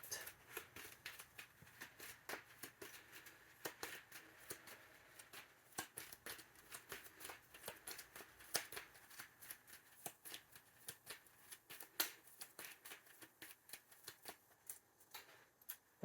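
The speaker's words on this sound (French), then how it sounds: "Et je vais brasser mon deck pour aller me chercher 5" A Dune Imperium card deck shuffled by hand at a table: a steady run of soft, crisp riffling flicks and taps over about sixteen seconds, close and fairly quiet, with no talking.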